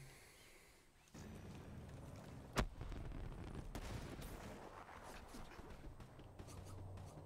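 Gunfire in Call of Duty Black Ops 3, a single sharp close shot amid a dense rumble of game noise and scattered distant bursts.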